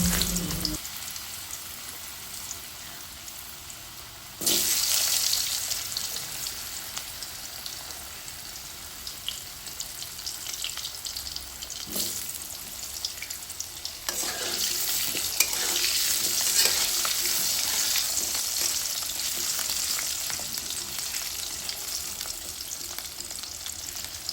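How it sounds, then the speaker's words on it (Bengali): Cut potatoes frying in hot oil in a pan, a steady broadband sizzle running the whole time, with louder surges and occasional stirring clatter. "আলু আমি ভালোভাবে ভেজে নিচ্ছি"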